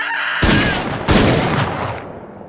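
Loud gunfire and a grenade launcher blast from a prison action film, two heavy broadband bursts about half a second apart, each trailing into a long booming decay with no talk.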